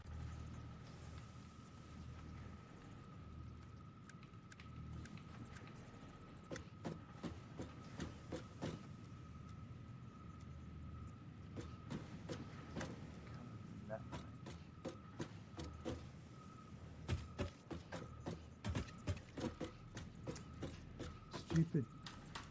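A computer keyboard clatters with scattered, rapid clicky keystrokes in irregular bursts, close and fairly quiet over a steady hum from a factory-building game, with speech at times.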